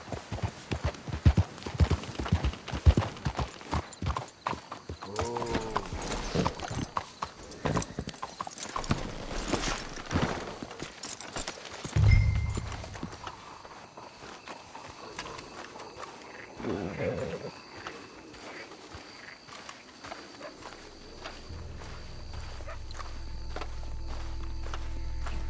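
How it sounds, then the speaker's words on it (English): Horses' hooves clip-clop at a walk in Red Dead Redemption 2, a close, rhythmic series of hoof strikes that slows and fades, with people talking over them. "Let's hitch the horses up ahead."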